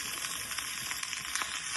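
Chicken fried rice sizzles steadily in a hot pan with white pepper and soy sauce nearby, a constant hiss broken by soft scraping stirs, close and loud.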